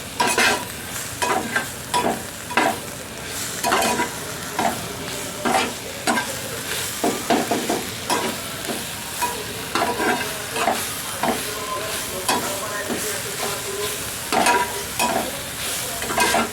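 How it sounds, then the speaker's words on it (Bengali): Chicken with arum greens being stirred and fried in a pan, repeated scraping stir strokes over a steady sizzle, close and fairly loud, with no talk. "এবার এটাকে নাড়তে থাক, সুন্দর করে নাড়তে থাকবো"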